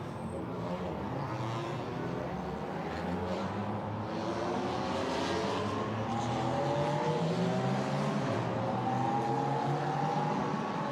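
DTM Trophy race cars rolling behind the pace car on a formation lap at the Hockenheimring: a dense, continuous drone of several engines shifting in pitch, moderately loud throughout, with faint crowd or commentary ambience beneath.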